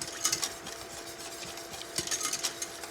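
A whisk beats a thickening milk bread mixture hard in a bowl, a fast, steady scraping and rattling with sharper clinks in bursts, close up and without talking.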